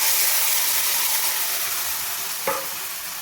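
Ground spice paste hits hot oil in a wok while a fish curry is cooked, giving a loud, steady sizzle and hiss that runs throughout, with one brief clank of a utensil near the end.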